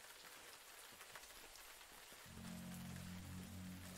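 Rain falling in the Road to Eden video game, a steady dense hiss of drops that swells and thickens partway through as a low rumbling layer joins it, with no voices.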